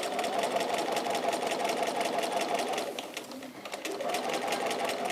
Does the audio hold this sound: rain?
no